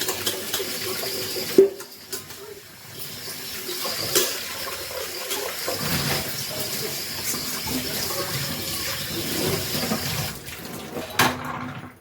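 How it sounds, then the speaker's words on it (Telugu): Cooking pots are washed and scrubbed under running water, with a continuous splashing rush, a few sharper knocks and clatters, and no talking. "అలా కాకుండా ఇలా నీట్గా తోముకోండి బాగా కడగాలి"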